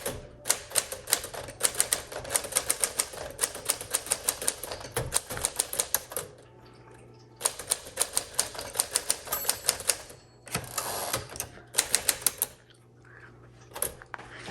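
Keys clatter on a 1957-59 Sears Tower Commander (Smith Corona) manual typewriter in uneven bursts of sharp strikes, broken by pauses and the clunk of the carriage returning, close and alone.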